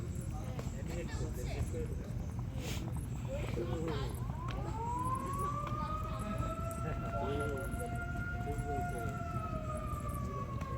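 A siren wails at Karamjal in the Sundarbans, rising in gliding tones partway through and holding steadily to the end. It sounds moderately distant, with people talking nearby over outdoor background noise.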